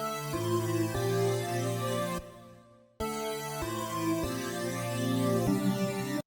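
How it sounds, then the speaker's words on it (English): A synth melody built on a 1-5-6 chord progression in FL Studio plays bright sustained notes in a steady rhythm. It fades out, leaves a brief gap, then repeats, with no speech. "But this melody by itself sounds something like this."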